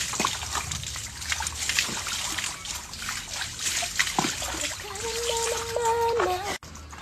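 Shower water splashing and trickling during a rinse, with steady spattering and dribbling throughout, followed near the end by a brief tonal squeak before it cuts off abruptly.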